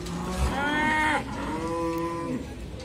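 A Simmental cow moos loudly twice in long, drawn-out calls, close by, with a faint murmur of background noise, at a livestock market in Muntilan, Magelang.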